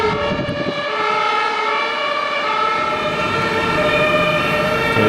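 Wailing sirens from a German emergency convoy led by an ambulance, with fire trucks following, several overlapping tones rising and falling loudly and continuously close by, with traffic noise underneath.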